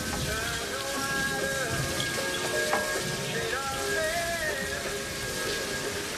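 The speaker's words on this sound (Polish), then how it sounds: "Bardzo pada." Heavy rain pours down steadily in a dense, continuous patter, with soft music and a few faint sounds in the background and no voices.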